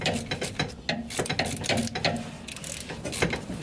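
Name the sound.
ratchet wrench turning on Datsun Z rear suspension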